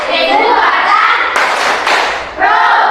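Pupils in a classroom chant together and clap in rhythm as an ice-breaker, loud and close, with a short burst of claps between stretches of group chanting.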